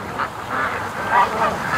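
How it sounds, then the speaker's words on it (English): Ducks swimming on a lake give a run of scattered quacks at moderate volume, close by, over a soft outdoor background hiss. "the ducks are actually swimming down the lake with me here"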